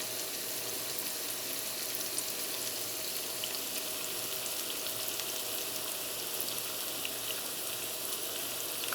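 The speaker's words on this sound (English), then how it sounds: "So we saute the onions, the vegetables in general, for a little while." Onions and other vegetables sauté in a pan for saltfish, a steady close hissing sizzle that holds evenly throughout with no talk.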